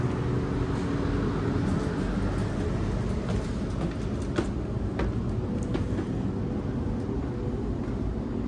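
Inside a Sydney train carriage, a continuous low rumble of wheels on track with faint rattles and clicks, steady and enveloping throughout.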